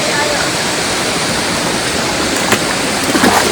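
Water flows continuously at a temple spring, a loud, steady rushing wash that never lets up, with no voices in the clip.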